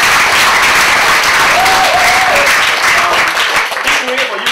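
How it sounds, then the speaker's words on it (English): A dense, loud round of applause fills the room during a question-and-answer session at a web technology camp in Kuala Lumpur, February 2012, with a voice briefly speaking over the clapping. "Please give him a round of applause."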